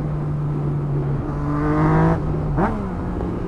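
A 2020 Yamaha MT-09 motorcycle accelerates hard with its quickshifter, the engine note climbing steadily and then cutting sharply at quick upshifts before rising again, close and loud.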